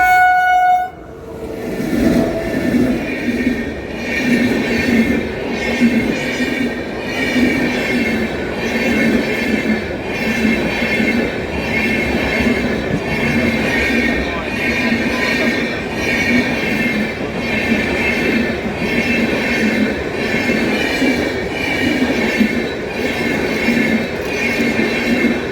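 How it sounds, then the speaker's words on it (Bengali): A train passes close by at night, heard from a car near the Mayurakshi bridge. Its horn blares at the start, then a loud rolling rumble and rhythmic wheel clatter carry on steadily with no talk. "আসছে রে বাবু ট্রেন।"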